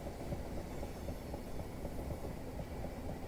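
A passenger train in Train Simulator coasts along the Portsmouth Direct Line with a steady rumble and faint rhythmic clicking of the wheels, heard alone.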